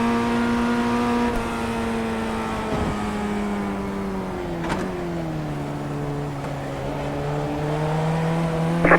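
iRacing race cars pulling away at the green flag, a steady droning engine note that climbs and falls through gear changes, with brief clicks and tire sounds over the sustained whine.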